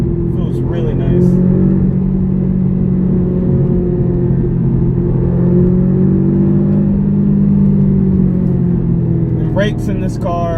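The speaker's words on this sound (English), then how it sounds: "am hearing like a little bit of pop coming off the exhaust" A 2012 Audi TTS engine and exhaust drone steadily while driving, a loud, continuous low hum with gentle rises in pitch as it pulls, and brief clicks at the start and end.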